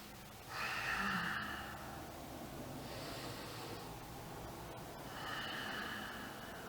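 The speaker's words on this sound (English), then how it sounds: "breathing in through your nose, constricting the back of your throat, and breathing out through your nose" Ujjayi breathing in and out through the nose with a constricted throat, slow, soft, hissing breaths that swell and fade, heard alone and close.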